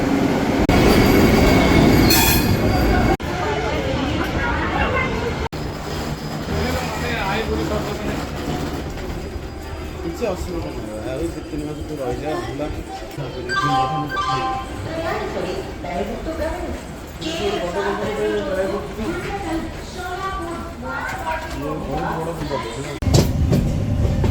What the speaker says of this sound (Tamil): இங்கே வந்தே பாரத் ட்ரெயின் நிற்கிது